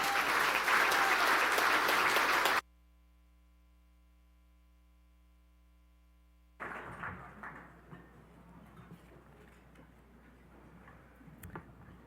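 A crowd at an Indigenous business award gala bursts into loud, dense applause that cuts off abruptly after a few seconds, leaving a steady electrical hum before faint room noise returns.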